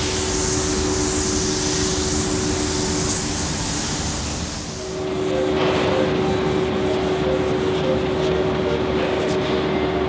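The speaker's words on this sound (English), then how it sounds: "we are sanding the dark primer" Dark primer is sanded on the body of an Alfa Romeo 1600 GT Junior under restoration, a continuous close, loud abrasive rubbing with a steady mechanical hum that briefly dips midway, then resumes with faster rhythmic strokes.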